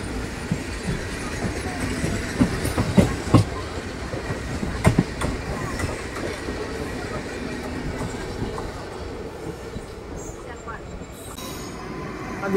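The Lingampalli–Visakhapatnam Janmabhoomi Superfast Express runs along the same track, a loud, sustained rumble of rail clatter with sharp clicks and a brief wheel squeal that eases toward the end.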